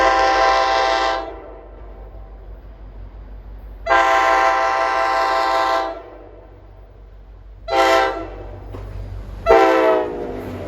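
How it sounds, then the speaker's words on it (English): Loud K5LA air horn on a passing New Jersey commuter train with a Jeep locomotive, train 55 from Hoboken to Port Jervis, blaring in four blasts, two long and two short, over a steady low rumble of the train. "train 55 at 5:48 with a Jeep with a nice loud K5LA horn"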